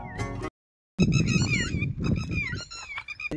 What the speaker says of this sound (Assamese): বেলেগ সাউণ্ড মানে শুনিব নাপায় চৰাই চিৰিকটিৰ বাহিৰে